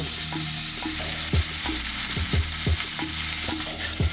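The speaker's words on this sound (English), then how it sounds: "What we're gonna do now is we're gonna add the sausage. So now that you hear that sizzle," Steady loud sizzling of sausage in a hot pan for a diner-style breakfast, with repeated scraping and stirring clicks throughout and no voices.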